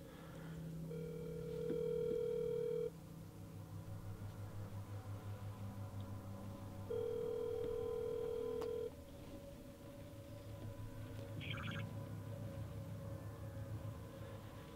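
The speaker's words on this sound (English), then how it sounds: "Okay, we're gonna call them again." A phone call on speakerphone rings out as repeated steady electronic ringback tones, two long tone bursts separated by a pause over faint background hum, with no talking.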